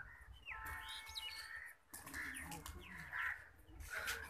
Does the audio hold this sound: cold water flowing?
no